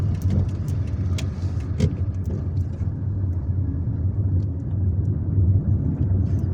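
Car driving through the streets of Algiers, a steady low engine and road rumble running throughout at close range, with no voices.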